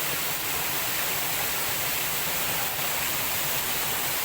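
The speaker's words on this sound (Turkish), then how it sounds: "Yukarıdan resmen bir şelale oluşturmuş." Floodwater pours down from above like a waterfall onto asphalt during a flood in Giresun. It makes a steady, loud, close roar of rushing water that fills the whole moment without a break.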